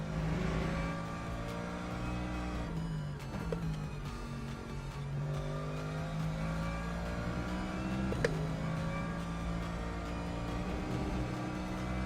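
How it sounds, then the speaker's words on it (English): Lexus race car in Le Mans Ultimate roars continuously close behind, engine pitch rising and falling through gear changes and corners, with a brief sharp shift around the middle. "This Lexus is very quick behind me."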